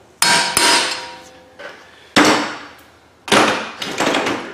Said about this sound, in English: We'll have to use the impact driver,